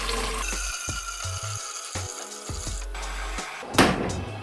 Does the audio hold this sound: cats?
no